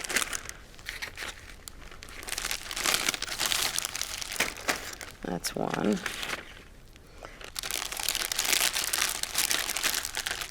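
Plastic bag crinkling as a pot roast is placed inside for marinating, a series of close, crisp rustles and crackles that come and go over several seconds, with someone speaking briefly between them.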